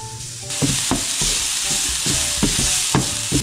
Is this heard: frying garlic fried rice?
yes